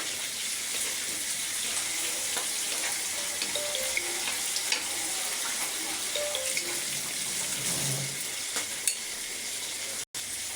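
Potatoes and eggplant fry with spices in a pan for a Bengali pabda fish dish, a steady sizzle under intermittent scraping and stirring strokes, close and fairly loud, with a sudden brief drop near the end.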